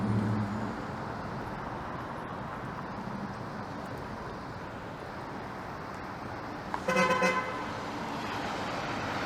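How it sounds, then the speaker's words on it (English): A streetcar horn toots once at a truck over steady traffic and street noise on King Street East in Toronto, brief and moderately loud against the background hum. "That streetcar is honking at that truck."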